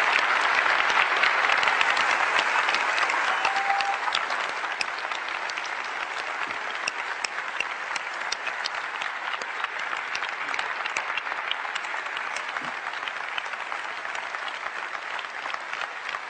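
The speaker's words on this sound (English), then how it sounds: "I'd just like to give them all a round of applause." A keynote audience at Macworld San Francisco 2005 applauds the iPod Shuffle team with long, even applause from a big hall, loud at first and then holding slightly softer for its full length.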